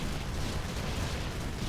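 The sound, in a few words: big explosion in video game Infested Planet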